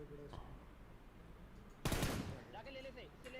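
In Battlegrounds Mobile India, a single sharp gunshot cracks out loudly amid quiet game ambience, followed by faint chirping interface tones and murmured voices.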